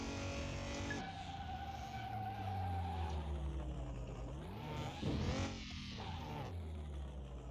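Car in Car Mechanic Simulator 2021, needing a wheel alignment, heavy steering and weak low-end torque: an engine drone rising and falling with gear changes, with sliding tire squeal layered over it, close and continuous.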